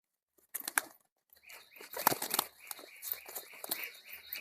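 Pigeons scuffle and flap their wings while feeding on sunflower seeds, in short, quiet bursts of close wingbeats and shuffling after a brief silence.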